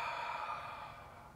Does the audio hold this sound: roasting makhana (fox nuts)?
no